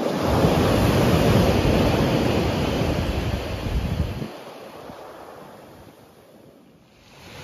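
Stormy ocean waves breaking on a stony beach, a loud broad wash that roars for several seconds, then drops away abruptly to a quieter hiss and wind rumble as the surf recedes.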